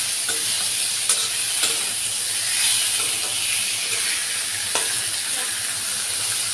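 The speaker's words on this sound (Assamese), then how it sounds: "কিছু সময় এতিয়া এইখিনি ভালদৰে ভাজি ল'ম।" Boiled potatoes, tomatoes and hog plums fry in a pan for a fish curry, hissing and sizzling steadily at close range, with faint clicks of stirring now and then.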